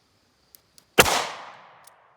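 A single loud, sharp report from a .38 Special +P 135 grain Gold Dot round fired from a short-barrel revolver, followed by a quick fading echo, with faint clicks before it.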